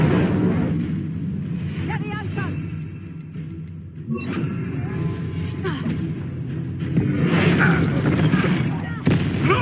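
A fire spell being cast in the video game Hogwarts Legacy, heard as a loud, dense burst of crackling, roaring game effects that swells and fades, with dialogue in the game mixed over it.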